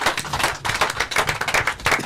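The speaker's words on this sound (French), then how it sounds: "j'aimerais qu'on applaudisse ce public" Studio audience at a live French television show clapping, a short burst of dense hand claps in uneven pulses, close and moderately loud.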